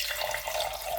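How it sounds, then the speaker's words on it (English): Malt vinegar mixed with water is poured into a glass holding a piece of chalk, a continuous close splashing pour that runs for the whole second without talk. "And I'm going to put my chalk in the glass. And I'm going to add in my vinegar water."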